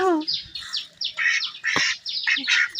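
Two domestic ducks held in hand, about to be slaughtered for a home-cooked curry, giving repeated short, high, chirping calls in quick bursts, close and fairly loud with no talking.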